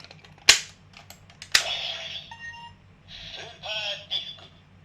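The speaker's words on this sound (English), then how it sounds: "we're just going to do the super disc noise first" A handheld Inromaru super disc toy gives two sharp clicking snaps followed by bursts of electronic chirps and beeping tones, close and fairly quiet.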